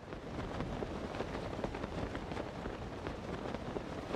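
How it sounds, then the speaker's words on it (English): A thunderstorm in The Legend of Zelda: Tears of the Kingdom, heard as a faint, steady hiss of falling rain with soft rumbling underneath. "Alright, it is thunderstorming."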